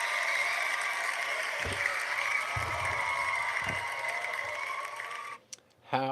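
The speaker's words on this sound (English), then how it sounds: "Let's give you a cheer." Cheer and applause sound effect played on a live stream, a steady wash of clapping and crowd noise lasting about five seconds before cutting off abruptly, with a few low thumps beneath.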